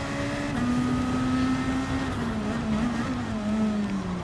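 A race car engine at Spa in a racing game pulls hard out of a corner, a steady high drone slowly rising and dipping in pitch as it accelerates, loud and continuous with no talk.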